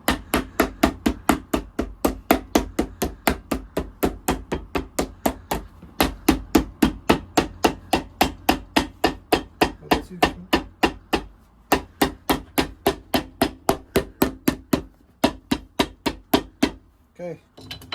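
Rapid, regular hammer blows striking a Red Wing boot sole, about three per second, close and loud, continuing without pause for most of the stretch.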